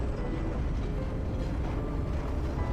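Steady rumbling train noise from the video game Trails of Cold Steel III, a continuous dense roar of rolling wheels and engine that holds evenly for a few seconds with no voice over it.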